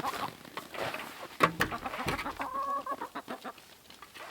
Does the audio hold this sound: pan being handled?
no